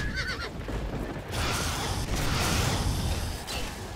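In The Elder Scrolls IV: Oblivion, a horse whinnies loudly near the start, then a broad noisy rush of combat and fire effects fills the rest, with no talk.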